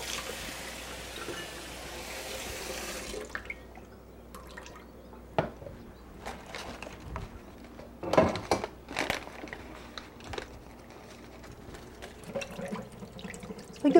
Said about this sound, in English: we're going to rinse this really lightly with some water that has a drop of lemon added to it